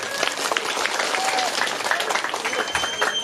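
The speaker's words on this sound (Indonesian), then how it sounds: "tepuk tangan" Applause and clapping in a large stadium crowd, steady and fairly loud throughout, with crowd noise and voices mixed in beneath the dense claps.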